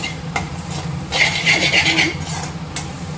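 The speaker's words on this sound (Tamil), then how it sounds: "இதில் இந்த எண்ணெயிலே ஒரு ரெண்டு நிமிஷம் நல்லா கிளறி விட்டுட்டு" Okra and chana dal are stirred in hot oil in a pan: about a second of close, scraping stirring over a faint sizzle.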